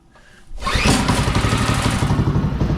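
A Predator 212 go-kart engine catches on a pull-start with the choke on, jumping from a brief quiet lead-in to a loud, steady, close-up chugging run that holds through the end.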